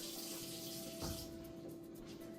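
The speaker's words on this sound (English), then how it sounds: "you want to take it out of the pack and rinse it off" Raw chicken pieces being rinsed under a running kitchen tap, a steady close hiss of flowing water that continues throughout without any talk.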